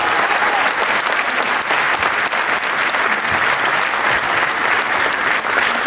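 A large audience at a gathering of African diaspora communities in France applauds loudly and steadily, a thick, continuous wash of clapping that keeps the same intensity for several seconds.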